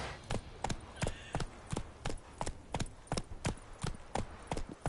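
Hooves of the horse Roach clop along in The Witcher 3 in a steady, evenly spaced trot of about a dozen crisp hoofbeats, close and clear, with no speech over them.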